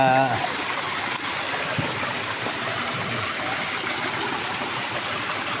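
Waterfall and fast-flowing stream near home, a loud dense steady rush of water that fills the whole clip, close by, with a voice briefly heard at the start.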